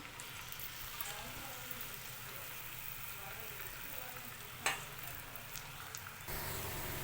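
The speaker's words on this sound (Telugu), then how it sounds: "ఆయిల్ అయితే హీట్ అయిందండి ఇలా కాకరకాయ ముక్కలు అయితే వేసుకుంటున్నాను" Bitter gourd pieces fry in hot oil with a steady, broad sizzle, close and even, with one brief clatter midway and the hiss swelling slightly near the end.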